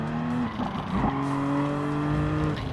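The BMW Vision Gran Turismo race car in Gran Turismo 7 holds a steady high engine whine with a brief dip and tire scrub partway through, loud and close, with no voices.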